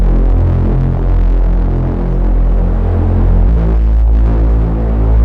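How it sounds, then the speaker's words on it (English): A deep, thick Reese bass synth tone drones continuously, throbbing and wobbling with a gritty, detuned texture, loud and alone. "This is the Reese bass."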